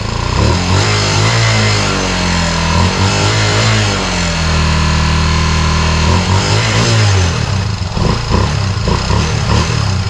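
A rebuilt engine fitted with a new engine block, revving loudly and up close: a steady idle broken by rising and falling revs, with a clean sustained rev held through the middle.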